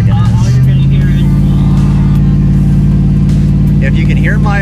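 Loud van engine labors steadily uphill on the Blue Ridge Parkway, a close, constant droning roar heard from inside the vehicle, with a couple of brief whine-like rising tones over it.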